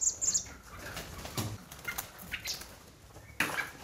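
Wild birds of prey recovering in a rehabilitation centre's flight aviary beat their wings in flight: several short bursts of flapping, some close and fairly loud, separated by quiet gaps, with faint bird calls.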